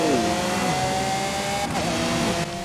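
A Lamborghini V12, 6.5 liters with no turbos, drives in Forza Horizon 5, its engine pitch climbing through gears with brief dips at shifts, loud and steady, with no talking.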